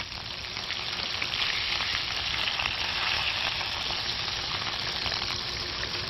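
Food frying hard in a hot pan with a steady, loud sizzle and constant crackling splatter for several seconds, no talking.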